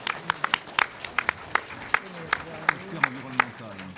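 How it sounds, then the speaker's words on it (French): An audience applauding at a celebration in honour of Saint Francis of Assisi, scattered sharp claps in an uneven rhythm from a modest crowd, fairly close, with a voice underneath. "Alors je vous propose d'abord d'applaudir Saint François d'Assise."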